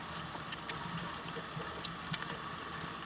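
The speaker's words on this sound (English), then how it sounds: "wash the apple I plan on using" Tap water runs steadily over an apple being washed in a sink, a continuous close splashing stream with small drips and irregular spatters, no voices.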